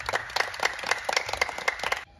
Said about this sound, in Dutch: Applaus voor jezelf.